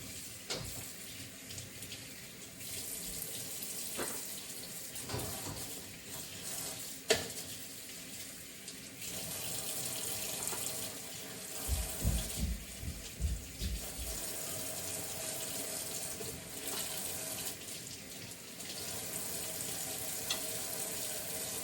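Thin-cut beef short ribs rinsed under a running kitchen tap give a steady, fairly quiet rush of water, with splashes, a sharp knock and low handling thumps as the meat is turned.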